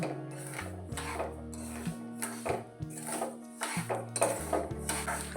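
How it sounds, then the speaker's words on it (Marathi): A spoon scrapes and clinks against a pan while sugar is stirred into ghee over medium heat for caramel, with repeated metallic scraping strokes and light taps at a close, fairly quiet level. "थोडंसं चांगलं मिक्स करून घेऊ म्हणजे तुपामध्ये साखर चांगली मिक्स झाल्याने आपलं कॅरेमल एकदम छान बनेल"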